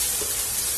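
Onion, ginger and garlic sautéing in a pan for Hyderabadi paneer masala, a steady, close, broadband sizzle that holds at an even level throughout, with no talk over it.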